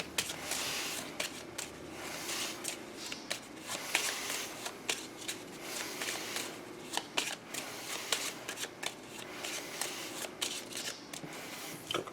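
Hero Realms deck-building game cards being shuffled by hand at close range, a steady run of crisp riffling and flicking bursts with no talk.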